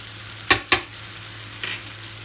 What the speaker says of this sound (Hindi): सब डाल के हम अच्छे से इसको स्टर करेंगे